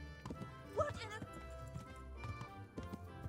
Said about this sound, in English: I'm just riding a horse.